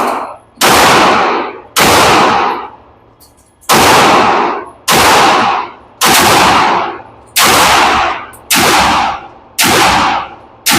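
An airsoft rifle fed from a KW Vulcan magazine fires single loud, sharp shots outdoors at a range, about nine cracks in an uneven rhythm with short gaps, each trailing off quickly.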